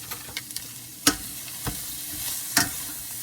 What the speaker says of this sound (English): all we're gonna do is just stir this up